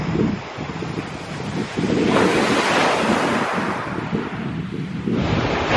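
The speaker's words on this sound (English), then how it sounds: "The sea has got a lot rougher" Rough sea waves break and churn continuously on a shingle beach at Shingle Street, with a loud steady roar of surf and hissing wash, swelling and dipping slightly as the breakers roll in, with no voices.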